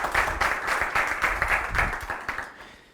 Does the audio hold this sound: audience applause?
yes